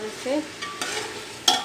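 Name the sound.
chicken pulao spices being fried and stirred in a pan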